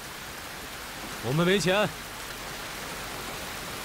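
Heavy rain falls outside in a steady, dense hiss that holds from start to finish, while a voice speaks briefly over it partway through.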